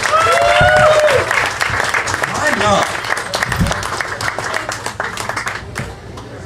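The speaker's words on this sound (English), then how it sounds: "Give him another round of applause" Audience applause for a stand-up comedian at a comedy show, loud sustained clapping and crowd noise that gradually thins out, with a host talking over it.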